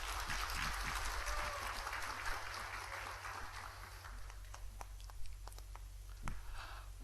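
A church congregation at a New Year's Eve service applauds the choir after its hymn, the clapping quiet and distant, starting fuller and thinning to scattered claps over a low steady hum.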